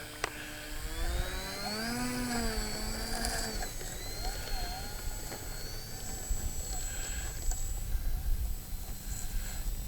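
MA16 Mini Apprentice RC model plane taxis out with its small electric motor whining, the pitch rising and dipping with throttle changes, faint and somewhat distant over outdoor wind noise.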